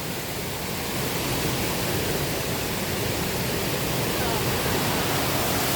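Waterfall at a scenic spot on a tour to the LongFeng 3D Glass Bridge, a steady loud broadband roar of falling water running unbroken throughout, close and continuous.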